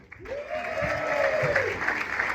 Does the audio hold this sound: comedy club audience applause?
yes